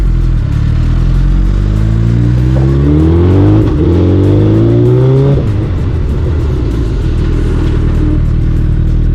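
A 2024 Suzuki Hayabusa motorcycle being ridden, its engine loud and close as it revs up through rising pitch sweeps and shifts, then settles into a steady strong drone, with no talk.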